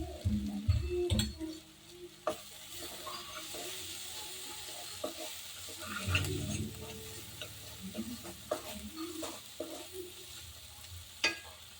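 Homemade pav bhaji masala powder and chili powder fry in a pan, a low sizzle under intermittent scraping strokes of a spoon stirring the mixture, close up and without voices.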